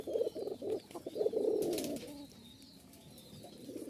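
A pigeon kept for sale gives a thin, high coo in rapid, throaty bursts, close and fairly faint, with a few soft wing and background noises and no talk.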